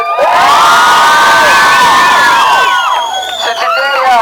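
A large crowd at the end of a charity walk tour in Myrtle Beach cheers, whoops and screams loudly and continuously, with high-pitched shouts rising and falling throughout.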